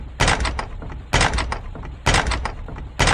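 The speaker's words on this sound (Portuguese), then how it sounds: "na casa da senhorita Minnie, fortes batidas começam a ecoar na porta." Loud, heavy knocking pounds on a house door at night, four forceful bangs spaced about a second apart, each ringing out sharply and close.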